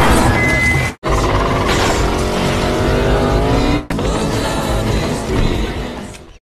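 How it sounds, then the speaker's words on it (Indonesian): Film car chase in which a getaway car baits a pursuing car into crashing into a lift: loud, continuous engine roar with tire noise and impacts, broken by two brief hard cuts, no talk. "Dia memancing Buddy agar mobilnya Buddy menabrak lift"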